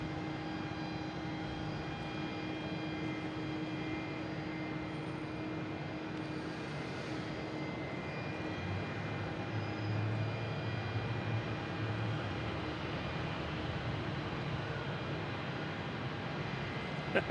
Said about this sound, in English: Just got planes taxiing around.